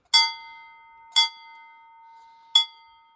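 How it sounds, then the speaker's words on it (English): Three clear metallic strikes of a bear-warning bell on the Nakasendo mountain trail in Japan, each ringing briefly with a sustained tone, spaced about a second apart in otherwise quiet surroundings. "there's a bell you can ring to warn bears of your presence and scare them off"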